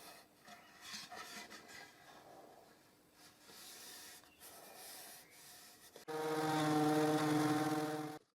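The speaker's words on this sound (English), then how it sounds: "I used the sander to level it with the sides of the tray" Power sander working a wooden tray with tilted sides, leveling a raised strip in the base flush with the sides; a steady loud buzzing whine starts abruptly near the end after quieter scraping and rubbing.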